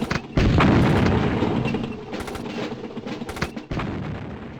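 Bullets striking a tank in the Army Men video game: dense, loud bursts of gunfire with rumbling booms and sharp cracks, running almost without a break and briefly dipping near the end.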